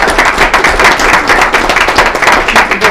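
Audience applause at a town board of trustees meeting, a dense steady wash of many hands clapping at once, loud and close throughout with no talk over it.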